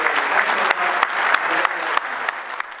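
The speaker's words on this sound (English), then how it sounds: "So let's give those guys a round of applause." An audience at a Big Buck Night deer-hunting event breaks into dense, close applause, with individual claps popping out of the steady roar.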